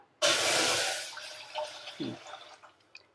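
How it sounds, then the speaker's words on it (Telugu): Thick milk is poured into a pot for making palathalikalu, a sudden close gush of liquid fading over about a second, followed by a few small drips and splashes. "చిక్కటి పాలు ఇలా పోసేస్తున్నా."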